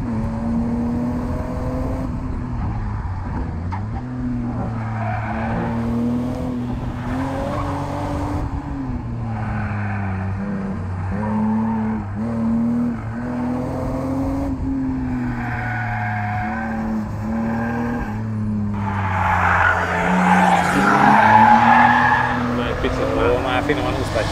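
A BMW Z3 M or Datsun 280Z drifts on a race track, its engine droning and revving up and down as tires squeal, growing louder toward the end while a voice talks over it.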